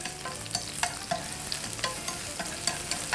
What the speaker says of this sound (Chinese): 下那个香葱和这个小干葱，我们给它煎一煎，